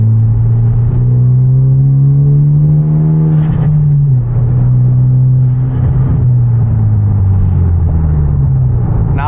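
A Hyundai Genesis Coupe with a turbo and a loud aftermarket exhaust on a night drive, giving a deep, steady engine drone that rises and falls with the revs. Faint fluttery bursts show now and then.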